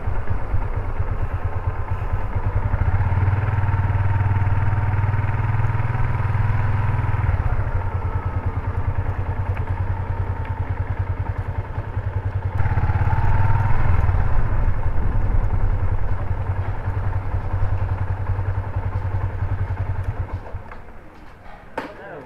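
Motorcycle ride with a steady mid-pitched engine drone and wind rush continuing throughout, rising slightly in intensity midway, with faint background sounds and no clear talk.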